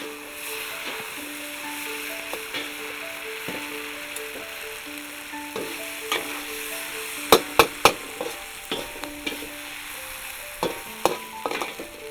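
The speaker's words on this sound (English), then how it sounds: "cook until the meat and the veggies are done" Meat and vegetables for Thai pad see ew stir-fry in a hot pan, a steady sizzle broken by sharp clanks of the spatula scraping and tossing, loud and close with no talking.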